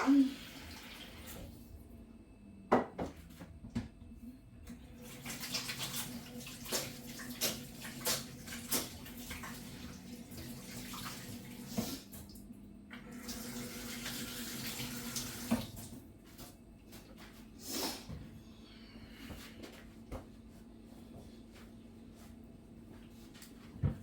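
Water runs from a kitchen tap into a hot pan while cooking breakfast, a quiet hiss in bursts with clinks and knocks of cookware in between, fairly close and soft.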